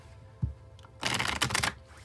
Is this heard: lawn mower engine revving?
no